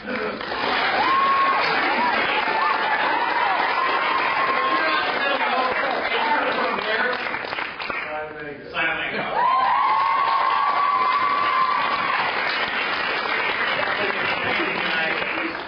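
Sustained audience applause at an Alpha Phi Omega fraternity conference in Georgia, a dense roar of many clapping hands with occasional whoops and cheers, loud and continuous, dipping briefly midway before swelling again.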